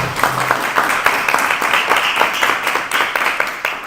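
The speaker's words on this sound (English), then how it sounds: "Let's hear a round of applause for them." Audience applause for a panel at a mayoral town hall on redevelopment, with steady, dense clapping from a room of people running through the whole stretch at an even level.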